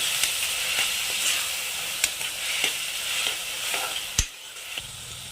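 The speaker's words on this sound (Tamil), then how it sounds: "இப்போ தக்காளி வெங்காயத்தை நல்லா பேஸ்ட் மாதிரி வதக்கி எடுத்துக்கலாம்" Onions and tomatoes sautéing in a pan with turmeric and salt, cooking down to a paste for paruppu sadham: a steady close sizzle with occasional sharp scrapes and taps of a spoon stirring.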